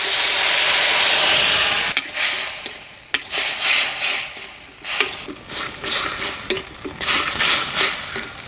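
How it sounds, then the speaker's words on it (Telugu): Three chopped tomatoes hit half a spoon of hot oil in a pan while a drumstick-leaf sesame chutney is being made: a steady close sizzle at first, then spoon stirring and scraping in uneven bursts over the frying. "ఇప్పుడు 1/2 చెంచా నూనె వేసుకొని 3 టమాటాలు కోసుకున్న ముక్కలు వేసేసుకుందాం"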